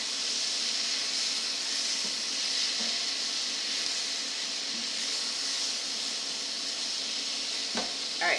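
A pot of braising pot roast is stirred while it simmers, a continuous bright sizzling hiss holding steady throughout, with a few faint scrapes and a soft clunk near the end, close and fairly loud.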